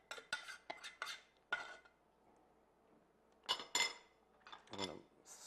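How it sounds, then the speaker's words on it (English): A spoon scraping melted bittersweet chocolate sauce out of a pan: several close, sharp metallic scrapes and clinks in short bursts, separated by quiet pauses. "I'm going to scrape all this out"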